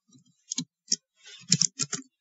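Keystrokes on a computer keyboard tap out an IP address in a quiet room, with a handful of crisp close clicks arriving in an irregular cluster.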